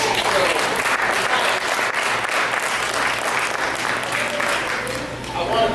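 Steady, dense audience applause from a community gathering fills the whole stretch, loud and close, with no voices breaking through until a slight dip near the end.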